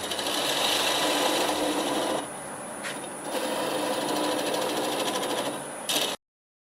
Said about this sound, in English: I'm going to use this little spindle gouge for the final cutting